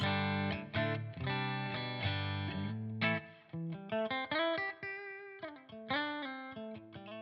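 Electric guitar played through an amp model in the bridge single-coil split position, with a run of bright, driven chords and single notes ringing out alone with no talk.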